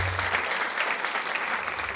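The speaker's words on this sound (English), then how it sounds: "a round of applause, please, for this week's review" A round of applause plays as a continuous, even wash of many hands clapping, loud and close, with no voices over it.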